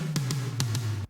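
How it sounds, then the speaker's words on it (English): Toms in an electronic music production strike four quick hits over a steady low sustained tone, close and fairly quiet, with no voices. "So this is what the toms sound like."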